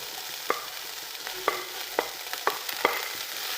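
Sliced onions sizzling in hot oil for a soya chunk and egg pepper roast, a steady close fry hiss punctuated by about six sharp spoon clicks and scrapes against the pan, no voices.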